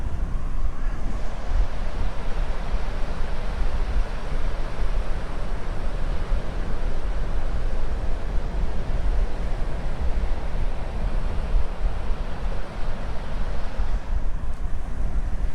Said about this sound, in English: Here's the ocean, mate. She's really ripping today.